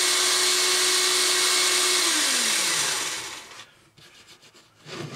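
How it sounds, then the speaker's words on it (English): A power drill bores into wood, a loud steady whine with grinding chatter that drops in pitch as the bit slows and winds down, followed by quieter scraping and handling of the workpiece. "we're going to drill two holes"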